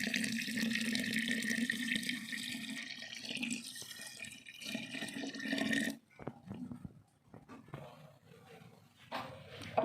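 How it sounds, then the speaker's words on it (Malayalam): Cooled boiled water poured into a container for banana wine, a steady close pouring rush for about six seconds that stops abruptly, followed by scattered handling knocks and small clatters, no talking. "നമ്മൾ 1 ലിറ്റർ പച്ചവെള്ളം ഇനി ഒഴിച്ചു കൊടുക്കണം"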